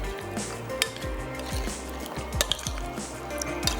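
Red mutton masala stirred in a pot, giving wet squelching and scraping strokes in an irregular rhythm, close up with a soft sizzle underneath and no talking.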